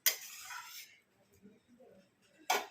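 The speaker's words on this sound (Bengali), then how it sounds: "নাড়িয়ে নেবো, নিয়ে ঢাকা দিয়ে দেবো" A metal spoon scrapes and clinks against a pot while chicken pulao is stirred, with a longer scraping stir at the start, faint soft sounds in between and another sharp clink near the end.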